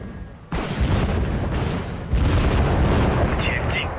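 Artillery fires in Wargame: Red Dragon during a North Korean assault on a Russian port. Heavy, loud booms land in repeated bursts with rumbling tails, and no one talks over them.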